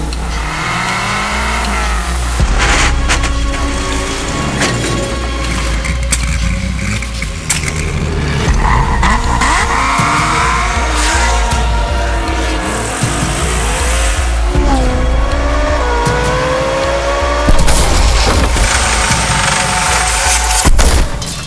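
Library car sound effects play in a loud, varied run: engines rev and accelerate, tires squeal, and sharp booming impacts cut in. There are brief pauses between some of the effects, and no voices are heard.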